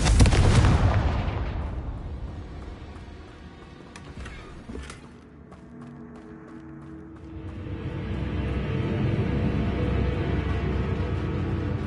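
Confringo fire spell explosions in the Hogwarts Legacy video game: a loud burst opens, followed by a rumbling decay, a couple of sharp pops around the middle, then a sustained roaring texture building again toward the end.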